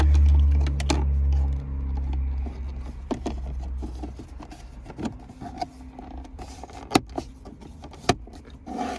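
A plastic fuse box cover snaps shut inside a Chevy Cruze cabin, giving a few sharp clicks that stand out clearly against a low rumbling background, with no talking.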